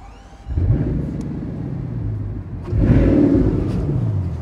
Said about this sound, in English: let me just start it up.